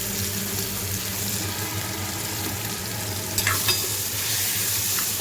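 Mashed eggplant mixed with onion, ginger-garlic paste, peanuts and crumbled omelette frying in a pan, a steady close sizzle with stirring scrapes and a couple of clinks partway through; no voices.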